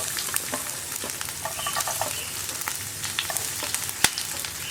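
Sliced onions and split green chillies fry steadily in hot oil, a continuous close crackling sizzle with occasional sharper pops and light stirring clinks, no voices.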